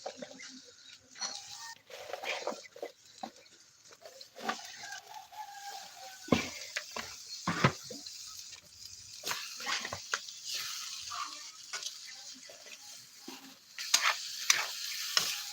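Green beans (sitaw) stirred into sizzling ground-meat adobo, giving a soft frying hiss with frequent clattering stirs and scrapes of a utensil in the pan, no voices.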